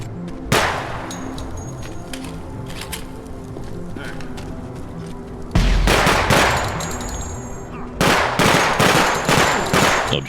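Firing of 5.56 and 30-06 guns in the game Project Silverfish, with rapid bursts of loud, close shots and clattering repeats, and a voice talking over the gunfire.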